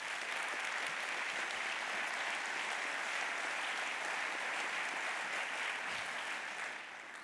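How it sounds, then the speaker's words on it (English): Sustained applause from a conference audience at a developer festival keynote in Nantes, honoring volunteers, dense and steady throughout before easing slightly at the end. "Donc merci de les applaudir,"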